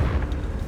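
Confringo explosive spell in Hogwarts Legacy, a brief loud booming burst with a rumbling, crackling body that holds steady through under a second.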